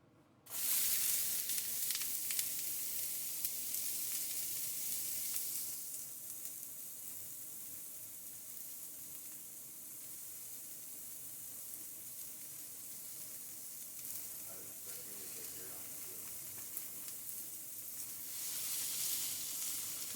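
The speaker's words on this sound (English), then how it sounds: "I added some oil to my pan. I'm going to add onions to it now." Onions hit hot oil in a pan with a loud burst of sizzling that settles into a steady crackling hiss, swelling again near the end, with no talking.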